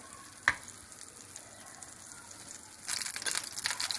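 About two tablespoons of butter melt in a pan on the stove. A sharp clink comes early, then a soft hiss swells into a louder, crackling sizzle near the end.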